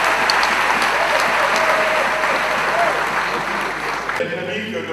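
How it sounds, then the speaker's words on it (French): Audience applause at an opposition political rally, dense sustained clapping from a crowd that stops abruptly near the end. "je vais demander, sous vos applaudissements"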